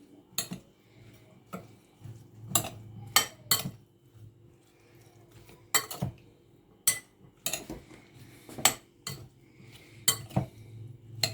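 Potato chips being tossed with salt and pepper in a bowl, heard as sharp, scattered clinks and scrapes of utensil against the bowl at irregular intervals over a quiet background.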